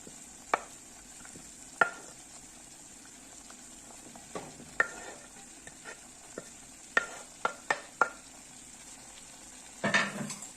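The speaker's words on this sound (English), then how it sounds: "So at this point, I'm just going to add my onions." Goat meat and freshly added onions fry in a pan over medium-high heat, a steady sizzle running throughout with scattered sharp clicks and scrapes of stirring, ending in a louder burst of frying.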